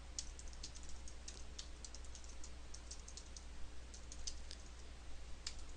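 Someone types quickly on a computer keyboard, producing a fast, uneven run of light clicks and key taps. The typing is quiet and close, over a faint low hum.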